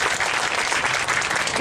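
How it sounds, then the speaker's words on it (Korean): Brief burst of steady audience clapping at an outdoor labor union rally after singers perform, dense and even throughout. "더 큰 박수 부탁드리겠습니다."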